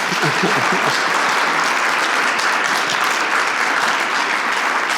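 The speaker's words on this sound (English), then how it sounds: "If y'all would applaud one more time for him." Steady applause from a writers conference audience fills the whole stretch, dense and even, without any voices breaking through.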